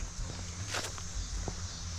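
Footsteps on a park trail loop at Blue Mounds State Park, a few soft, uneven steps over a steady outdoor background hum, with one clearer scuff near the middle.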